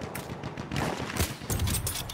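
Gunfire rattles in Battlefield 1, a quick run of shots and bursts, some near and some distant, over a busy battlefield background with no speech.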